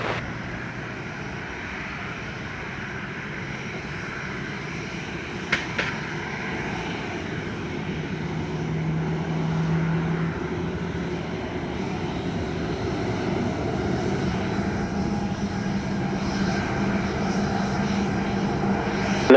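Airliner taking off from a runway, its jet engines building to a steady, loud roar that swells gradually and stays continuous throughout, heard from nearby without speech.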